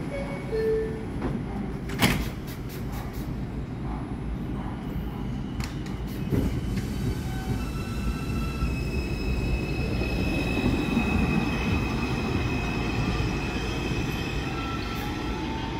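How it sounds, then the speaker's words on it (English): A New York subway train at Baychester Avenue on the 5 line, R62A or R142 stock: a door chime and doors thudding shut, then the train rumbling and pulling away with wheel squeal, steady and close, no talk. "Stand clear of the closing doors,"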